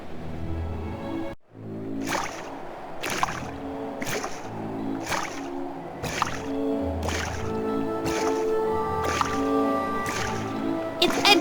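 Water sloshes in Edgar's soapy wash tub in a vampire adventure game, with regular wet splashing pulses about once a second over soft background music.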